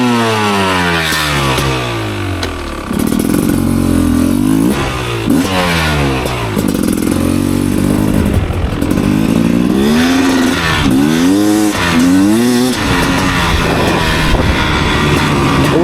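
A Beta 300 Xtrainer two-stroke dirt bike, rejetted and fitted with an FMF Fatty pipe, revs and pulls away in repeated rising bursts of throttle, loud and close, with no talking.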